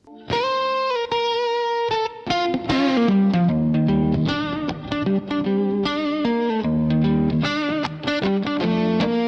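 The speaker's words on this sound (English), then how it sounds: "I think I hear a little bit of compressor, maybe even a little bit of reverb." A soloed guitar line with compression and reverb plays bright, sustained notes, a slower phrase that turns into dense, rapid picking, loud and continuous with no voices.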